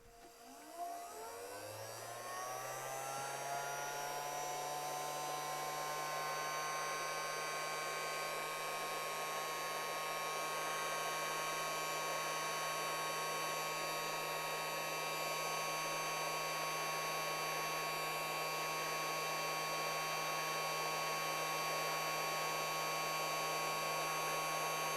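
Heat gun warming heat shrink tubing on a fly line: a steady, loud blower whine and airy rush that ramps up at the start and then holds constant throughout, with no talking.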